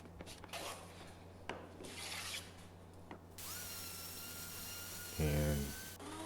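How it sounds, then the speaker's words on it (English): Rough scraping and rubbing strokes as a hand plane removes black paint from wood, irregular and close, followed by a louder steady whirring burst near the end. "I'm going to use my hand plane to get the black paint off of the parts"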